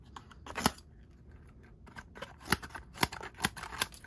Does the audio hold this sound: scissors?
yes